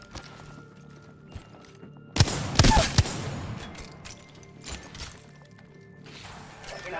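Gunfire in the shooter game Apex Legends: a brief, dense volley of loud shots bursts out midway, then fades to softer scattered clicks and thuds.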